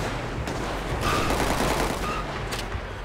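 Gunfire in the video game GTA 5 crackles as a dense, continuous fusillade of shots, loud and close, with bursts layered over a noisy rumbling background and no voices.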